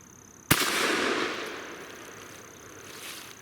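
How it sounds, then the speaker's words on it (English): A single loud blast from a Fusion Firearms Bull Prime shotgun fired outdoors, a sharp crack followed by a long rolling echo that fades over about three seconds, with no talking. "let's start shooting this thing a little bit"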